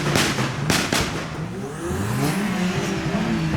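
Modified car engine at a car meet revving hard with pops and bangs from the exhaust, loud and close at first, then settling into a steady drone with no talk.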